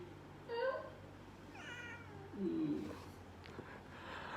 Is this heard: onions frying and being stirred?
no